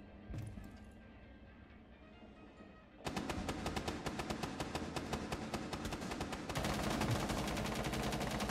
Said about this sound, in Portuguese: Aqui tá atirando aqui, velho.